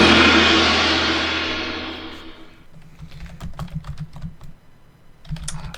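Someone types on a computer keyboard in quick, uneven bursts of close clacking keystrokes, after a loud rushing noise fades away at the start; no one speaks.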